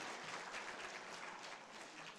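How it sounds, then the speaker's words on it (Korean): Church audience applause at a Korean women's mission gathering, a faint, even patter of many hands clapping continuously without speech. "여기서 박수."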